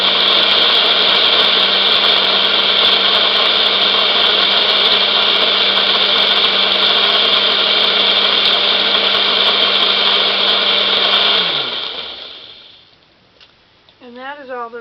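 A blender grinding madder root for dye, running as a steady, loud, high-pitched whine for about twelve seconds before spinning down and falling quiet, with faint sounds at the end.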